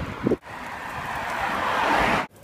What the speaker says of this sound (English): It's drizzly and it's rainy and windy and cold